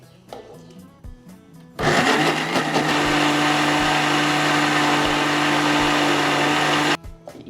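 A mixer grinder in a kitchen grinds ginger, salt and coriander for spinach dosa batter. It starts after a short pause, runs as one loud, steady whirring burst for about five seconds, then cuts off, with light handling noises before and after.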